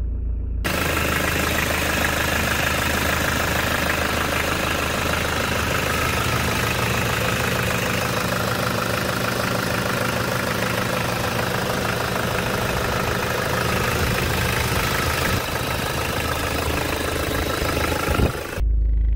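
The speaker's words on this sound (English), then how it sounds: "let's go take a look at the motor and listen to it" A 1995 Mitsubishi Pajero with the 2.8-litre 4M40 diesel engine idles steadily up close, a loud continuous rumble with a fine rhythmic diesel clatter that holds evenly throughout.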